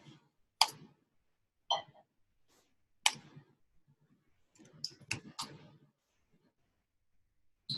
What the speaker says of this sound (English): it's just a little typing